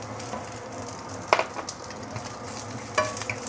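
Sautéed shiitake mushrooms being stirred together with other ingredients in a pan, a steady low sizzle with two distinct clanks of a utensil on the pan, close by, no talking.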